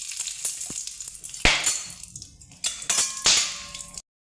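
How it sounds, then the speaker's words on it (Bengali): Dried red chilies fry in a little oil in a kadai, a crackling sizzle punctuated by a few sharp bursts and scraping clanks, close and without talk. "তো এই লঙ্কাগুলো ভেজে নেব।"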